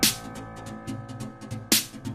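Two layered snare drum samples play together in a drum pattern, with a loud crack at the start and another near the end, lighter hits ticking between them, close and punchy.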